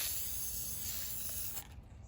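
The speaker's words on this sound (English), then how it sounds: "Just gonna go ahead and spray it and hope for the best." Can of gold spray paint hissing in one steady, close burst onto fishing bait, cutting off sharply near the end and leaving quiet.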